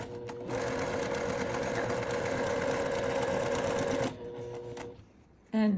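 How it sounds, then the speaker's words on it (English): A sewing machine stitches a quilt iris block along curves, a loud steady mechanical whir running at speed for about four seconds, then slowing and stopping, with a short burst of noise at the end. "as you see, I'm sewing a little bit faster"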